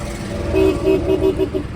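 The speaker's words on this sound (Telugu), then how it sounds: "హార్న్ పర్ఫెక్ట్ ఉంది" A 2018 Maruti Brezza VDi diesel car sounds its horn in a quick series of about five or six short, loud honks in a steady rhythm, close by.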